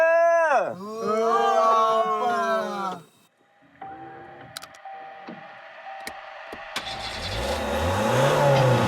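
Ford car engine accelerating hard on a race track, a rising engine note building to a loud roar after an opening stretch of talk, with the engine pulling steadily through the corners.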